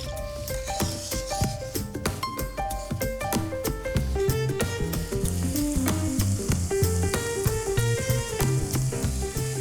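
Seafood frying in a generous pool of olive oil gives a steady, close sizzle that runs throughout, partly masked by prominent melodic background music.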